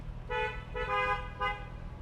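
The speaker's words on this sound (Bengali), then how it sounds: "এই গাড়িটা হর্ন দাও" A car horn honks three times in short, fairly evenly spaced toots over a low engine rumble, heard from a distance.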